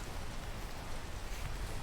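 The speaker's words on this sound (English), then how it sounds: "oh god, it's raining too" Steady rain falls in a video game during a climbing section, a dense, even hiss of drops with no voices or other sounds over it.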